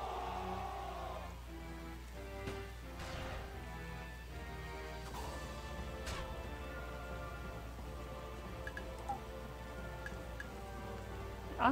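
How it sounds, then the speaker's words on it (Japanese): Steady rain pours down in the Taikou Risshiden V DX video game, a continuous soft patter with scattered louder drops, heard alone with no talking. "雨だよな。"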